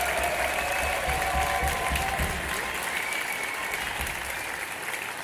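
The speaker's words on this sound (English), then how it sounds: "let's give a massive round of applause for our corporate team" A large crowd claps loudly and steadily, a dense wash of applause that holds for the whole stretch without easing off.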